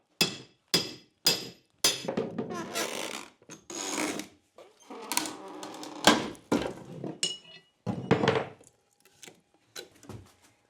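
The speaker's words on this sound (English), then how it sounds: "I'm going to just frame this little entryway out." Hammer blows ring out while a small entryway is framed in timber, in irregular bursts: a few sharp single strikes, then quicker runs of knocks and clinks, fairly close.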